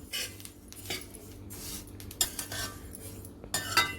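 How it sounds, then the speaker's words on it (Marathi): Sesame seeds roasting in a pan over medium flame while being stirred, for sesame ladoo: steady close scraping and clinking of a utensil against the pan, with a few sharper clinks near the end. "मोठ्या गॅसवरती पटापट भाजण्यापेक्षा मिडियम गॅसवरती तीळ चांगले भाजून घ्यायचे"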